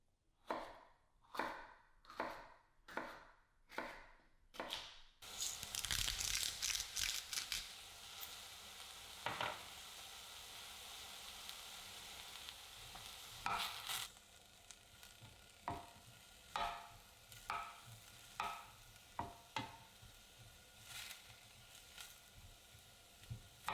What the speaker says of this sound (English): Chop them up and sauté them with the aromatics until they soften a little for 3 to 5 minutes